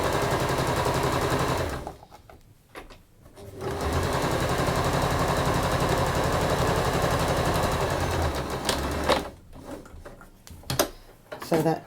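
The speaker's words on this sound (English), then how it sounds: "I'm sewing this in white purely so that you can see the seam that I'm sewing" A sewing machine stitches a seam in white thread on fabric, running in fast, loud rattling bursts separated by short pauses.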